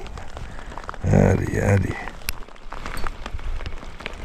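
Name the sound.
rain falling while fishing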